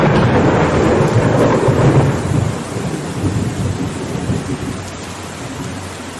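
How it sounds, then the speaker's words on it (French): Heavy rain with a rolling thunder rumble in a storybook sound effect, loud and dense at first, then settling into steady rainfall, with no talking. "Pluie n'était pas dupe. Lorsqu'elle découvrit le stratagème de Feu, elle s'éleva dans le ciel et se mit à tomber"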